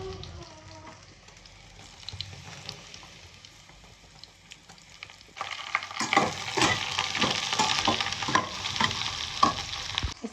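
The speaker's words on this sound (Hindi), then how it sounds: "ये कटे हुए बैगन डालेंगे" Cut eggplant dropped into a pan of browned onions, a soft sizzle that jumps to a loud, crackling fry with repeated stirring clatter in the second half.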